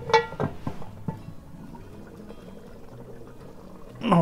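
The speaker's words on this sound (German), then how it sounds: "das blubbert schön vor sich hin, so wie es sein soll" Goulash cooks in a Dutch oven, with a few sharp clinks and splashes at the start, then a quiet bubbling simmer.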